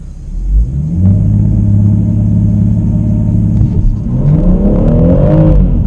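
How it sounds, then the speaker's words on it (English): BMW M140i in Sport Plus mode launching on launch control with heavy wheelspin on a greasy surface: a loud, close engine drone that holds steady, then rises into a climbing rev as the car pulls away. "Try launch control. It's a Sport Plus."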